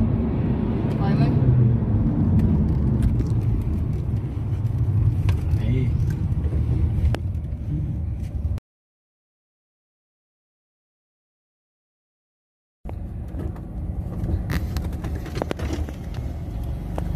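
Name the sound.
car driving on the road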